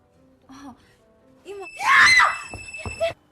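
A woman screams in fear in the Japanese horror film Ju-On, with short fearful vocal sounds building into a loud shriek and broken gasping cries.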